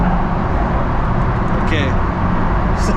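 A big-turbo BMW M140i with a screamer pipe pulls hard in third gear, giving a loud, steady engine roar and wind rush heard from inside the car for a few seconds.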